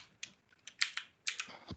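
Numbers are tapped out on a computer keyboard without a numeric keypad: about ten quick, light keystrokes in an uneven burst, close and fairly quiet.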